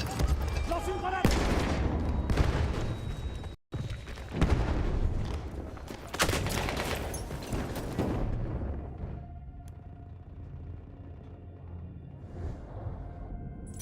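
Loud, dense battlefield combat from Battlefield 1: continuous heavy gunfire and explosions rumble for about eight seconds, with one sharp gap, then fade to scattered distant shots and low rumble. Voices call out over the noise.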